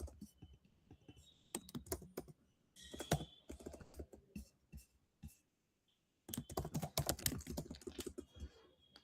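Fingers tap out code on a computer keyboard in close, irregular bursts of clicks, with short pauses between runs and a dense flurry at the end.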